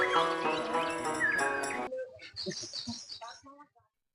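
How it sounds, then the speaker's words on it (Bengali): Birds chirp and tweet in the Sundarbans forest, with several bright, busy calls. Partway through, the sound shifts to sparser, clipped chirps before fading to silence. "পাখির কিচিমিচির শব্দ ছাড়া কোনো শব্দ নাই"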